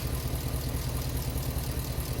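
Hemi-swapped Jeep JK running with its engine and exhaust, a steady low rumbling drone that stays loud and even throughout, with no voices.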